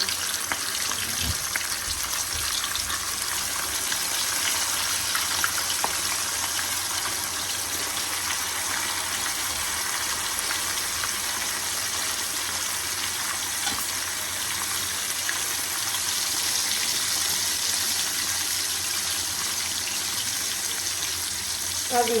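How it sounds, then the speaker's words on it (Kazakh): Pieces of fish fry gently in oil in a pan over low heat, giving a constant bright sizzle that stays steady and close for the whole stretch, with no voices over it. "Енді балығымызды салып қуырамыз."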